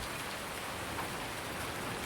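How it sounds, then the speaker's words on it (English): Rain falls in Farming Simulator 19, a dense, even hiss of drops on surfaces that holds steady and close throughout without a break, with no talking. "As it rains on our last episode"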